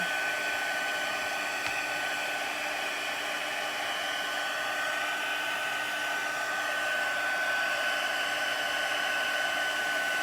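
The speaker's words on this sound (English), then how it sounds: "now we're going to heat up this embossing powder and make it all shiny" Heat tool melting embossing powder during a stamping craft session, a steady loud fan-driven whoosh with a thin tonal whine that holds unbroken from start to end.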